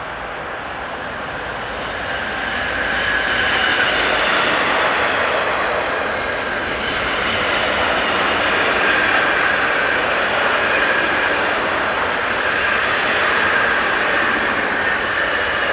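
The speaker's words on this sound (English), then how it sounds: "In the opposite direction we see 193805 on this covered car train heading south." A DB class 193 electric locomotive hauls a covered car-carrier train southbound between Bremen and Hannover in Germany, giving a steady broad rumble and rushing roar of passing wagons that swells and holds for the whole stretch, with no talking.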